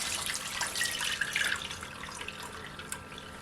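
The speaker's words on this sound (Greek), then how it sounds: "Λίγο παγωμένο νερό, να καθαρίσει καλά" Cold tap water runs steadily into a sink to rinse almonds that soaked overnight, a close, continuous splashing with small spattering drips.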